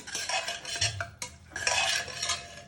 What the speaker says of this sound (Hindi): अब ये हमारा चिकन और शलजम को मिक्स करते हैं।